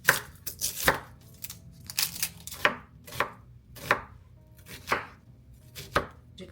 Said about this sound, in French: Je vais essayer de les couper de manière fine, sans me couper un doigt.